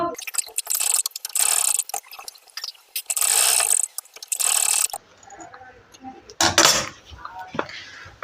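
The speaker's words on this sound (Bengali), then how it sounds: "সেই হাফ ইঞ্চি কাপড়টা এখানে সেলাই করে নেব" A sewing machine stitches a half-inch strip of cloth onto a panjabi in several loud mechanical bursts of rapid clatter, broken by short pauses and quieter handling sounds near the end.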